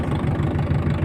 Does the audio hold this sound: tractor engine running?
yes